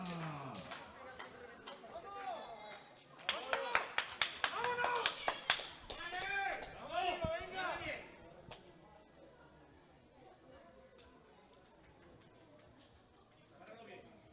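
Crowd clapping and cheering at a women's classic powerlifting world championship in the 84+ kg class, rising in bursts of sharp claps and shouts mid-clip under a voice, then fading to a quieter hall.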